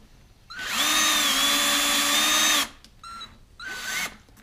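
A power drill with a 5.5 mm bit whines up sharply to drill out rivets on a 1987 Buick Grand National power antenna, one long close burst followed by two short spurts.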